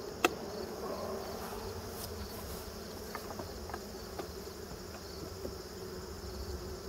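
A colony of bees buzzes steadily inside a hive, a dense, continuous drone with a few louder individual buzzes passing close by, and no talking.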